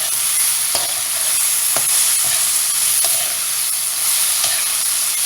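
Curry leaves sizzle and crackle in hot oil while a peechinga (ridge gourd) chutney mixture fries, a steady loud hiss with occasional stirring scrapes, no voices.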